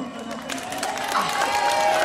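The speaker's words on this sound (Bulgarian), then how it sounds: "Може ли малко да напъним аплодисментите за оркестъра?" A crowd at a village fair in Stryama, Bulgaria, applauds and cheers for an orchestra, dense, continuous clapping with shouts mixed in, close and loud.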